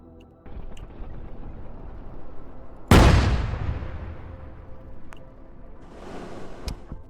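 Rockets launch and blow up in the combat game Broken Assault: Defense!, heard as one loud sudden blast near the middle that fades into a long rumbling decay over quieter background battle noise, with a few sharp pops later.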